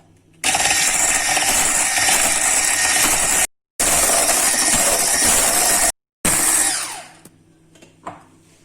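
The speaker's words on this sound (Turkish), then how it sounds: "Çırpıcının düşük modunda çalıştıralım." An electric mixer on low speed whirs loudly and steadily, whipping egg whites with sugar. It cuts out briefly twice, then winds down and stops.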